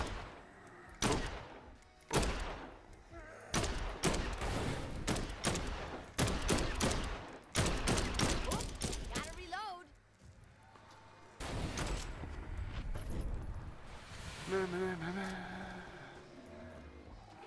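Loud, close video game gunfire in rapid automatic volleys, several separate bursts broken by short pauses, then denser continuous firing with a voice briefly heard near the end.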